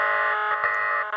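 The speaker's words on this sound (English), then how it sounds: "That's the fire alarm." A fire alarm sounds loudly and steadily, a continuous electronic tone ringing without a break.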